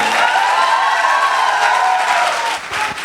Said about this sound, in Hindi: एक दफा तालियां बजा के दिखा दें